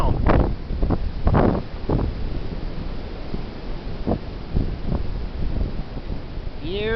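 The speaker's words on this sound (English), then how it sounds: "Man, it is cold and windy out here." Strong cold wind blows outdoors in a steady, heavy roar buffeting the microphone, with several sharper gusts and rustling bursts rising above it throughout.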